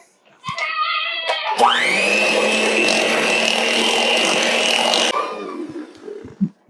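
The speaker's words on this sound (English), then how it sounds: "I'm gonna put this in and give it another big stir here" A whipped sugar scrub is stirred in a bowl by a loud, steady electric mixer running continuously for several seconds, with brief knocks and clatter before it starts and after it stops.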